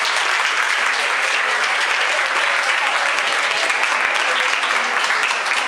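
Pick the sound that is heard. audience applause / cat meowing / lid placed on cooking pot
audience applause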